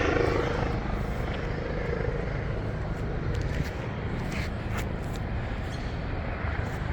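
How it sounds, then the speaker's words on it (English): A steady, loud rotor drone of a helicopter fills the whole stretch, with rough wind-like noise and no pauses. "Helicopter."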